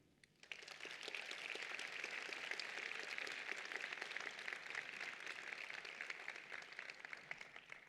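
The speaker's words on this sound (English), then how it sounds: "Please, a round of applause for our invited music artist" Steady applause from a large crowd at a conference opening session for a music artist, a dense wash of many hands clapping that starts suddenly and carries on evenly at a moderate distance.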